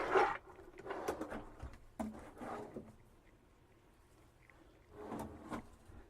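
Solid wooden drawers in a 2018 Regency Xalta camper van slide and knock shut several times nearby, with short scraping runs and thuds separated by quiet pauses.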